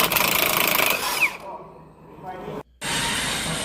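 Power tool whirring on an 18mm bolt and nut while unbolting the hub knuckle from the shock absorber of an accident-damaged Vauxhall Corsa, a loud close buzz that stops, a quiet pause, then resumes.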